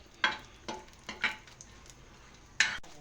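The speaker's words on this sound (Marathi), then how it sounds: "छान असं खोबरं तेलामध्ये भाजून घ्यायचं" Grated coconut roasting in oil on a griddle for a spicy chicken dish: a few sharp spatula scrapes and stirring strokes over a faint, soft sizzle, close by and without speech.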